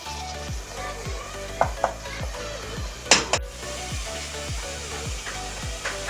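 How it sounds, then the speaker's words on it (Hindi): Masala spices sizzling in ghee in a home kitchen pan, a steady close frying hiss broken by a regular series of scraping stirs and a few sharper clinks of the spoon against the pot. "सारा मसाला भुन गया, घी सारा ऊपर आ गया।"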